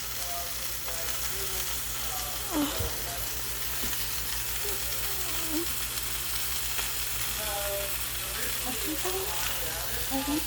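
Food fries in a pan, cooking a little longer before being turned. A steady, close sizzle runs throughout over a low background hum, with occasional light scrapes.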